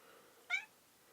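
A single short meow from a house cat, fairly clear and mid-loud against a quiet room, followed by a faint trailing sound and no talk.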